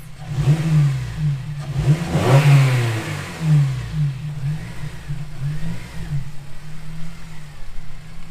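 A 2007 Honda Civic Si pulls out of a garage, its engine droning in a low, close hum that swells as it revs around the middle, then eases back toward a steadier run.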